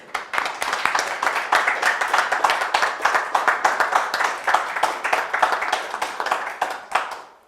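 An audience applauds local filmmakers at a short film showcase, a dense, sustained run of many hands clapping that continues steadily before tapering off at the end, with no talk over it.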